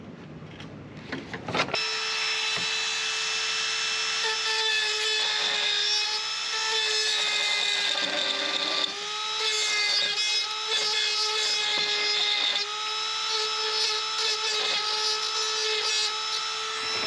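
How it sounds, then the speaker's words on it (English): A power tool trims plastic bumper support on a 2001 Toyota Avalon, a close, steady high-pitched whine with a fluctuating buzzing cut that runs continuously after a brief start-up. "I think I'm going to trim it back just a tiny bit to give it a little bit of a flat spot"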